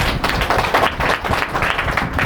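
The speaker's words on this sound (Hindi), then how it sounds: "जोर से ताली बजाएं।" Loud clapping from a church congregation at a Sunday meeting, a dense, steady wash of many hands filling the whole moment without letup.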